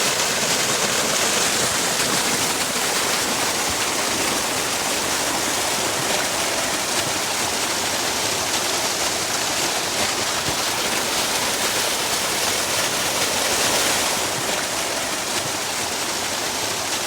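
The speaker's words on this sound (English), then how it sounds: "Nice little waterfall." Small waterfall on a brushy desert canyon creek in southern Utah, a steady full rush of falling and splashing water that holds loud and unbroken throughout, with no voices.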